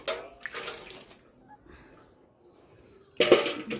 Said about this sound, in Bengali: এই ঠাকুরতলা ধুয়ে দিলাম, ঠাকুরতলায় জল দিয়ে দিচ্ছি।